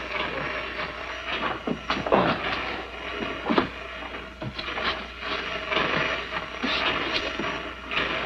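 A 1949-era train runs on rails near a station with an express car, giving a rumbling roll punctuated by rhythmic clicking wheel clacks over several seconds, with no voices.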